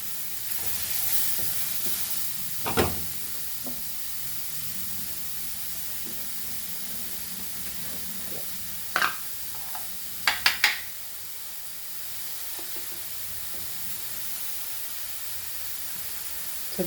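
Papaya melgor roasting without oil in a pan, a soft continuous sizzle and hiss with a few sharp clicks and knocks of a utensil, steady and close.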